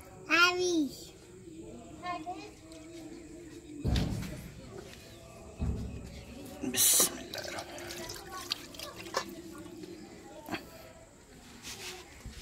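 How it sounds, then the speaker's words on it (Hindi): Water is poured over a strainer to rinse out leftover batter while making pani puri in a village kitchen, giving short splashing bursts among quieter dripping and clatter, with faint voices in the background. "थोड़ा पानी लगा लेंगे इसको ताकि ये जो बच गया वो भी निकल जाए"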